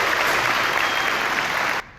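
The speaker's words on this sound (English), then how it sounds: "just help me give a round of applause to all the teachers in the room today" A room full of people at an educator award ceremony gives a round of dense, loud applause for the teachers, and the clapping cuts off abruptly near the end.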